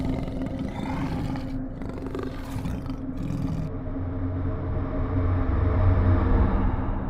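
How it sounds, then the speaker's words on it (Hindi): A deep, rumbling lion roar builds and swells over several seconds, loud and close, with no talking. "शेर भी रात भर गुफा के बाहर गरजता रहता है"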